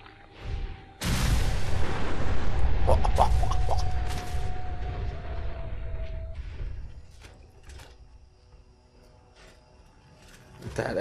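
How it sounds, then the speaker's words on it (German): A big explosion in the video game Fallout 4, a sudden deep booming blast that swells into a long rumbling roar, with metallic rattles and a ringing tone, slowly fading over several seconds before another rumble begins. "That explosion."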